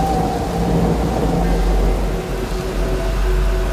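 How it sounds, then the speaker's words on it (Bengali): Thunder rumbles through a nor'wester storm in an animated horror night scene, a loud, continuous roar blended with steady rain and wind, with no distinct crack standing out. "সেই সাথে প্রচণ্ড আওয়াজ করে বাজ পড়তে থাকলো"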